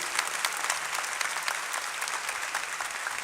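Church congregation clapping together during a Mass, a brisk, even wash of many hands at moderate volume, steady for a few seconds with no speech.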